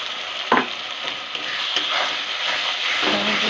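Tomato paste frying with ground coriander and Kashmiri chilli in a pan gives a steady sizzle, with a few louder scraping stir strokes near the start and toward the end, and no talking.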